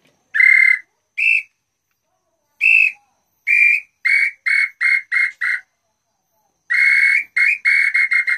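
A large purple-foot bird-call whistle (pio) is blown in clear, close, high whistled notes. A few spaced single toots are followed by quick runs of short repeated chirps.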